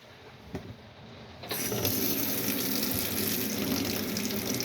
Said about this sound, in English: Hot water and good water pressure in the vanity unit